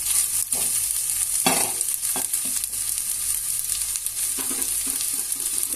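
Cluster beans and onions cook in a pan, giving a steady close sizzle with occasional stirring scrapes and clacks breaking through the frying hiss.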